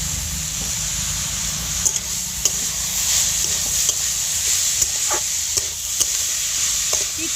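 Grated coconut cooking with sugar and water in a wok, a bright continuous sizzle broken by repeated scraping spatula strokes at an irregular rhythm.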